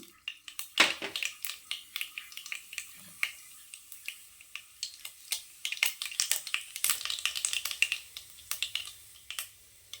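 Mustard seeds and urad dal crackle and pop in hot oil in a pan, a quiet scatter of sharp snapping bursts that thickens into a steady crackle, heard alone without talk.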